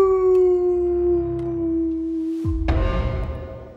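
A wolf howls in a dark horror story, giving one long, loud, sustained howl that gradually falls away. A sudden harsh snarling burst follows near the end.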